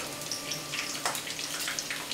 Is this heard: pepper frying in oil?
yes